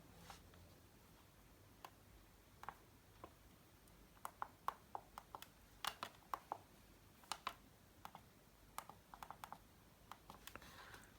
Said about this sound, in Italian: possiamo scrivere semplicemente quello che vogliamo usando la nostra tastiera QWERTY